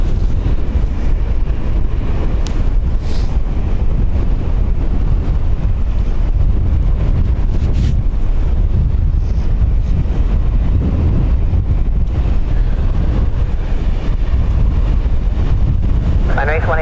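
Strong wind at Dublin Airport roars and buffets the microphone in a dense, continuous rumble, loud and close throughout.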